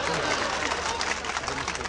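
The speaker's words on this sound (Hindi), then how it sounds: "तालियां बजा दें इनके लिए" Audience applause for a poet at a 2012 mushaira in Pachperwa: dense, steady clapping from a crowd fills the whole stretch at an even level, with faint voices mixed underneath.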